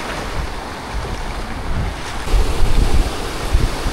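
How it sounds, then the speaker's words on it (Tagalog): Loud surf roars continuously with heavy wind buffeting the microphone, swelling stronger in the second half as big waves break close by. "Ang lalaki ng alon"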